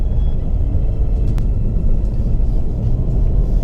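A supercharged Holden HSV GTSR V8 rumbles steadily through a gorge road, a deep continuous low engine drone heard from inside or close by, with no talking.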